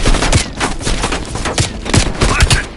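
Heavy machine gun fire in the video game Call of Duty Black Ops Cold War, a loud, dense, continuous burst of rapid shots with overlapping blasts throughout, close and dominant.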